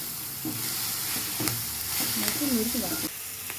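Ponnanganni greens sizzle steadily in a hot pan for chutney, with close scraping stirs of a spoon through the leaves.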